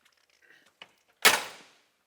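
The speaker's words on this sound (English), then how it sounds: "Door opens and closes very easy" Door of a 1969 Plymouth GTX 426 Hemi swings with a couple of faint clicks, then closes with one sharp, loud slam that rings briefly and fades.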